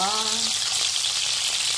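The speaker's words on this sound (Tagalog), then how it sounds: "So, lagay na natin ang ating manok. Prito na natin sila." Loud, steady sizzling of chicken frying in hot oil in a pan for adobo, a dense close hiss throughout, with a brief voice at the very start.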